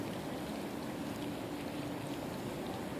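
Dense, even hiss of rainfall, steady and fairly soft, with no voices or other distinct sounds.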